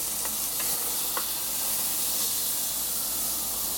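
Burgers cooking on a Weber Q grill with flare-ups, making a continuous broad hiss and sizzle, close and steady, with a few faint pops and no voices.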